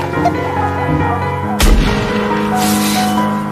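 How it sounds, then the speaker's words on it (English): A single sharp gunshot cracks out partway through, loud and close, over a steady tonal musical background. "All of a sudden there was a gunshot."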